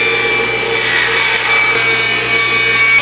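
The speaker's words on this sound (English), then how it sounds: "I'm gonna rip down these fence pickets into 1 3/4 inch wide strips." A table saw rips wooden fence pickets lengthwise into narrow strips, giving a loud, steady, unbroken whine of blade through wood that runs close and continuous with no talking.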